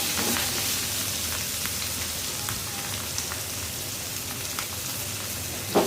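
Hilsa fish frying in a generous amount of deep oil, giving a dense, continuous crackling sizzle with scattered pops, steady and close throughout.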